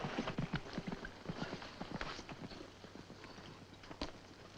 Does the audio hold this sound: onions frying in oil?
no